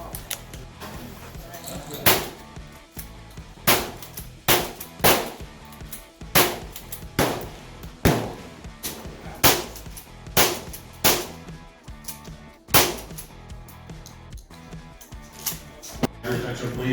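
Gunshots crack at a firing range with a Citadel Boss-25 shotgun present, sharp loud reports fired one at a time at roughly one- to two-second intervals, with people talking between shots.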